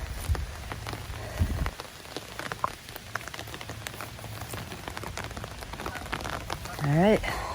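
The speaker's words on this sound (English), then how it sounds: "It just started raining, like an actual rain." Rain falls steadily on a bivy-style tent outdoors, a fine continuous patter of drops on fabric, close and moderate in level, with a brief voice-like sound near the end.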